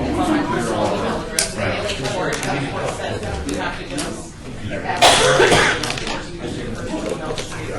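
Several hoarse coughs and throat clearing break up ongoing conversation nearby, with one sharp burst of coughing midway.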